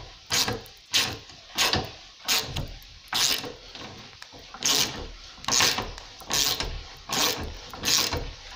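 A car suspension silent block bushing being forced out of its housing without the special tool, a steady series of about a dozen close, rhythmic ratcheting clicks as the pressing tool is cranked, with no talk.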